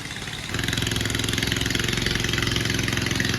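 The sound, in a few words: boat engine running as boat reaches the ghat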